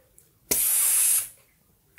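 A voice mimics a skunk spraying with a single loud, close hiss lasting under a second, set against quiet surroundings.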